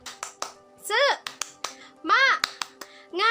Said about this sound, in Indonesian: Coba kita tepuk semangat ya.